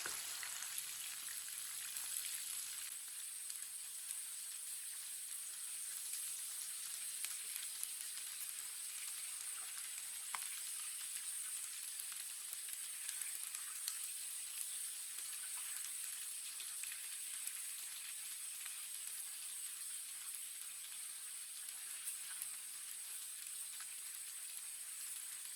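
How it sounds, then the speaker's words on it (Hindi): Chicken fries in a pan for layered biryani, giving a faint, steady sizzle like light rain that continues evenly with only small crackles and no talk. "अब चिकन को डालेंगे।"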